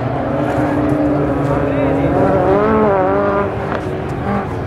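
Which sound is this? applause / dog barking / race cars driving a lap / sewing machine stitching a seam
race cars driving a lap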